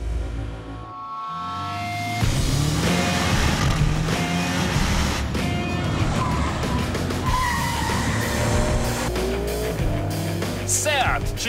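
A Cupra sports car engine revs hard and roars at speed around a track, with tires squealing through turns and gear changes, loud and close, a voice talking over it.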